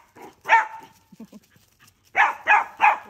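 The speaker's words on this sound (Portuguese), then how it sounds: "Latindo." A dog barks close by: one sharp bark, a few soft grunts, then three quick barks in a row.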